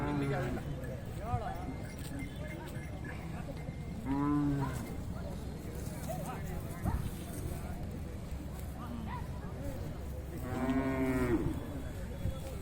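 Cows at the Siddaganga cattle fair in 2024 let out two loud, drawn-out moos a few seconds apart. Constant crowd murmur and nearby conversation fill the space between the calls.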